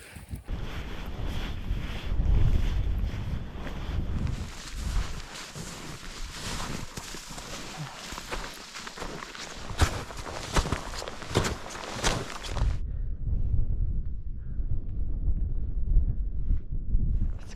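Cold winter wind blows outdoors in -15°C weather during an overnight climbing and camping trip, a loud, gusty rush buffeting the microphone, with crunching steps in deep snow.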